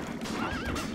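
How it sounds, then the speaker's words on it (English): A horse in the Lego Movie Videogame's Old West area gives a short, close neigh that wavers up and down, with a faint backdrop of game sound. "That horse is plumb loco."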